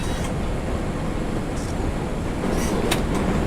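A train rolls along in a video game, a dense continuous rumble and clatter of rail cars at steady loudness, with a few brief higher squeals; no speech.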